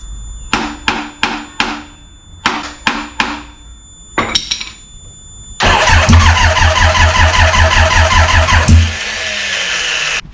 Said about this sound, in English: So obviously right now it wants to start, but it doesn't start